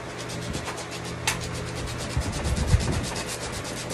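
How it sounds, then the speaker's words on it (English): Sandpaper rubs paint off metal tape measure elements in quick repeated back-and-forth strokes, a close, steady scratchy hiss with a few louder scrapes and knocks near the end, with no talk. "we're going to sand the paint off of these two"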